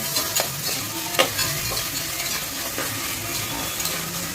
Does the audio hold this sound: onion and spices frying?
yes